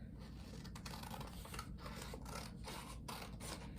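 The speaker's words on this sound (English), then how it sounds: "take some scissors, and we're going to cut it off." Quiet, close snipping and rasping of scissors cutting through paper in a series of short, uneven strokes.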